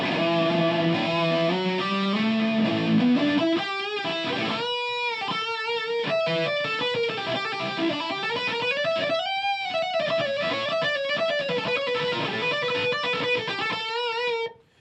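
Overdriven electric guitar through a Blackstar tube amp, playing a melodic lead with bends and sustained notes, loud and close, ending abruptly.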